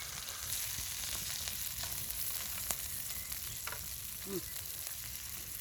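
Fish caught from a stream sizzle steadily in a pan outdoors in a field, a dense continuous hiss with small crackles throughout, close up, with no talking.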